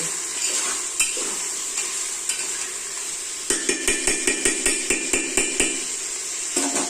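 Mutton curry masala being roasted and stirred in a pan, with a steady sizzle and a run of regular metal spoon scrapes and taps against the pan in the second half.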